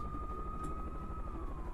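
A police helicopter in the video game City Smash 2 gives a steady, quiet synthetic drone with a sustained tone that dips slightly toward the end, and no voices.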